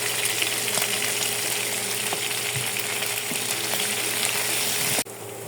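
Beef fries with soy sauce in a pan, giving a steady close sizzle with small pops and scrapes of stirring before the sizzle drops sharply quieter near the end.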